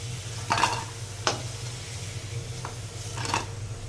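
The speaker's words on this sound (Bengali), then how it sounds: "পোস্তটা দিয়ে কিছুক্ষণ নাড়াচাড়া করে গ্যাসটা বন্ধ করে দেবো" Green banana and poppy seed fry being stirred in a pan, a soft low sizzle with a few distinct scraping clinks of a spatula spaced apart, quiet and close.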